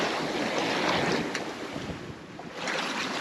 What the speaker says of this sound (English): we have swell coming from every frickin' direction